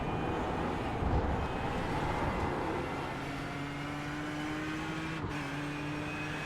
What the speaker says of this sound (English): Ford sounds really good. So does the Ferraris.